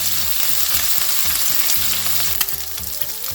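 Meatballs sizzle and fry steadily in a hot pan, a continuous close crackle with occasional soft stirring or turning sounds, no talking.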